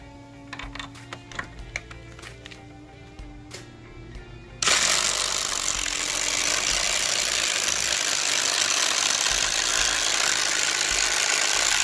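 DeWalt and Rockwell impact drivers sinking lag screws into wood, light clicks and knocks at first, then a sudden loud, continuous hammering rattle that carries on steadily up close.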